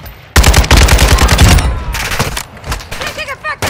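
Machine gun fire in Call of Duty MWII, loud rapid bursts that start abruptly and keep rattling in dense, overlapping volleys, with game voice callouts mixed in near the end.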